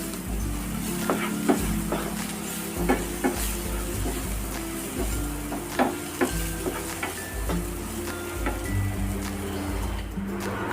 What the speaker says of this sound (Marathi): ह्याच्यामध्ये पाव चमचा हळद मिक्स करायचं